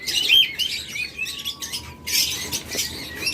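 Caged budgerigars and lovebirds chirp and tweet continuously at close range, with overlapping bright calls, a few squawks and no talk.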